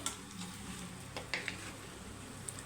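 Chicken pieces frying with ginger-garlic paste, a faint close sizzle with a few light scrapes and clicks of stirring scattered through, no speech.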